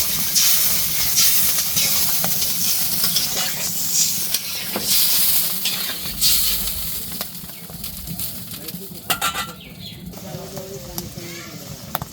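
Water hits a pan of sautéed curry, and a loud, broad hiss of steam rises, then slowly settles into a softer bubbling sizzle with a few clinks near the end.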